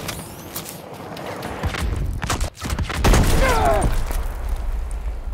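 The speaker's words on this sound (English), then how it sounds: "Grenade going out!" A grenade thrown and exploding in a Battlefield game, a deep boom landing mid-clip among continuous gunfire and rumbling battle noise, with a brief voice shout over the din.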